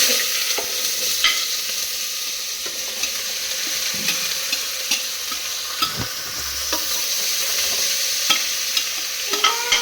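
Onions stir-fry in a pan with a loud, continuous sizzle close by, while a utensil scrapes and clicks against the metal at irregular moments throughout.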